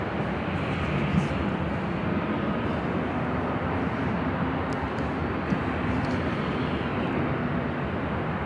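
A Southwest Airlines Boeing 737-800 taxiing toward a gate on the north side of Terminal 1 at LAX, its engines giving a steady, moderately loud rumbling whine with no talk over it.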